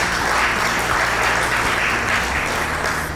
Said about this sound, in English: So just a round of applause to Bunty